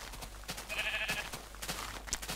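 A sheep bleats once in the video game Minecraft, a short wavering call heard close and alone over a faint background hum.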